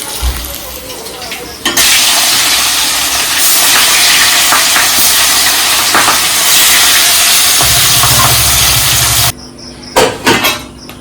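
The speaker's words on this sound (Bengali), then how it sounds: "এই যে সাদা জিরে ফোড়ন দিয়ে দিচ্ছে, দিয়ে ডাঁটা আলুগুলো ভেজে নেব।" White cumin seeds hit hot oil in a home kitchen pan for tempering before stems and potatoes are fried, bursting into a loud, continuous hissing sizzle that abruptly cuts off near the end, followed by a few clanks.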